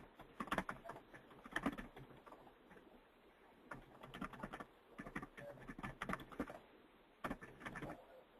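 Typing on a computer keyboard while filling in a personalised letter paragraph in a financial planning submission form, with bursts of quick key clicks separated by short pauses, close and moderately loud with no speech.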